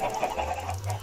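Chickens in a video game, a cluster of soft overlapping clucks over a low steady hum, close and continuous for about a second, no talk.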